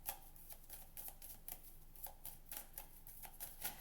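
Tarot cards are handled and laid out on a table, making a series of soft, quick card flicks and taps in an irregular rhythm, close and quiet.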